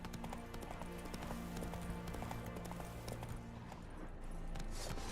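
Hooves of Roach, Geralt's horse in The Witcher 3, clip-clop in a steady rhythm, close and prominent over a dense game soundscape of ambience and music.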